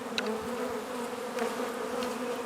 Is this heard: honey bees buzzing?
yes